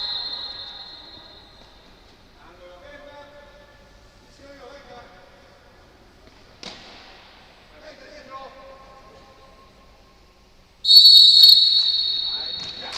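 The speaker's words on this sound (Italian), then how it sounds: "fischio dell'arbitro" A referee's whistle blows sharply and loudly near the end of a women's roller hockey match, cutting through the arena ambience while a commentator talks over the play.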